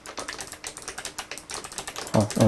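Rapid clattering keystrokes on the MSI GT75 Titan 8RG gaming laptop's mechanical-style keyboard, a quick uneven run of close, crisp clicks across the whole moment, ending in a slightly louder burst.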